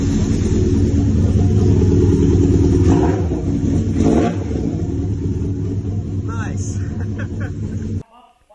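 Custom car fitted with a 600cc motorbike engine running, a loud close rumble with a rev surge and bursts of revving, speech over it, before it drops away abruptly at the end.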